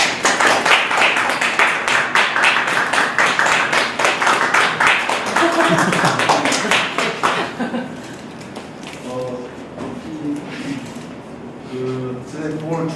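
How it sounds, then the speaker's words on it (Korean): A lecture audience gives a burst of loud, rapid clapping that fades away after several seconds, leaving quieter room sounds and a brief voice. "우리 선생님 축하하는 드리는 그런 마음으로 큰 박수"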